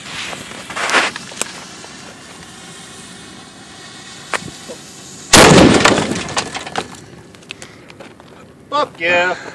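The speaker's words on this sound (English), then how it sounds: "Broken glass." A sudden loud crash with a burst of shattering noise midway as a hand cannon shot hits a watermelon, preceded by a few sharp knocks and followed by scattered debris and excited voices.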